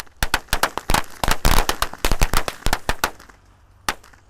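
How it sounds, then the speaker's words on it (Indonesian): Several mini smoke matchstick firecrackers lit at a New Year celebration burst in a rapid, uneven string of sharp loud cracks, close by, before one last lone pop. "Kalau ini kita akan menyalakan mercon korek SMS smoke mini 2 Thor."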